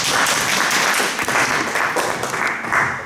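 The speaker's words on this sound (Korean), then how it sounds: "박수 한번 위나에게 해주세요." A church congregation applauds, dense and loud continuous clapping from many hands filling the room at a steady level for the whole stretch.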